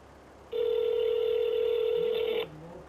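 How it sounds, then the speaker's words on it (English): Telephone ringing on an outgoing call, a single steady electronic tone lasting about two seconds, clear and fairly quiet against a faint background hiss. "Oh, it's ringing"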